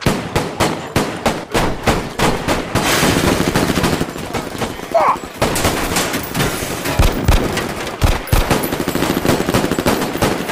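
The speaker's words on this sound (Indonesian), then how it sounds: "namun gangster lainnya muncul dan aksi tembak-menembak pun terjadi lagi" Gunfire in an action film shootout between gangsters and pursuers: loud, rapid automatic bursts and single shots crackling in dense volleys, with brief pauses between bursts.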